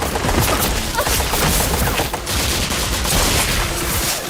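Soldiers fire on Indiana Jones in a film scene, producing dense, loud, continuous volleys of rifle and machine-gun shots with crashing impacts, with no pauses.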